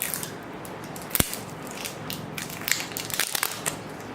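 A plastic package of makeup foundation in shade 710 Honey Beige is opened up close: a sharp crack at about a second in, then scattered small clicks and crinkles over low handling noise, with no talk.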